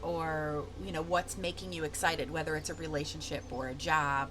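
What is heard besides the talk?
No everyday noise stands out behind the speech.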